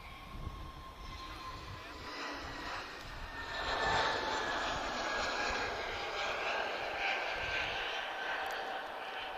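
A TAP Portugal airliner accelerates down the runway on its takeoff roll at Lisbon Airport in the evening, a broad steady jet roar building gradually at a moderate distance, with faint tonal whine riding over it.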